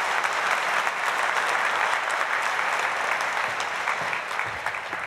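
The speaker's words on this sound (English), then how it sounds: "Big round of applause to Don," Audience at a mentalism show applauds a volunteer, a full, even burst of clapping that stays strong and slowly eases toward the end.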